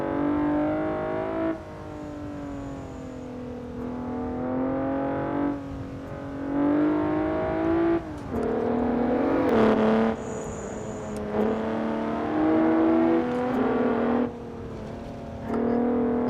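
Volkswagen Jetta driving through turns: a steady engine drone rises and falls in pitch as it accelerates and eases off through each bend, loud and close, with no talk.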